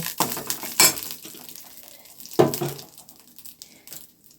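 Mustard seeds, curry leaves and two dried red chillies are stirred through hot oil in a wok, giving two sharp crackling bursts of spluttering followed by a softer, fading sizzle and scraping.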